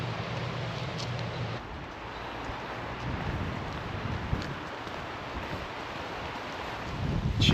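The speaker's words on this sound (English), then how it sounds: "it is quite windy" Steady wind buffets the microphone outdoors near the Glenfinnan Monument in the Scottish Highlands, a continuous broadband rush that swells into a louder gust at the end.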